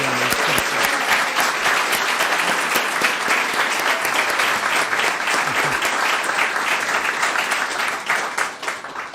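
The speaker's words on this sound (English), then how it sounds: "Can we have one more round of applause for all our award winners?" Sustained applause from an audience at an awards ceremony honoring preservation winners, dense steady clapping that fills the room for several seconds before beginning to thin out at the end.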